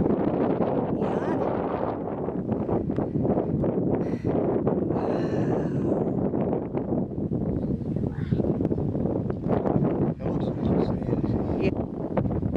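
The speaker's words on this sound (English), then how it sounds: "It's nice and breezy." Steady outdoor wind buffets the microphone at Crystal River Archaeological State Park, a continuous broadband rush that runs loud and close for the whole stretch while people speak over it.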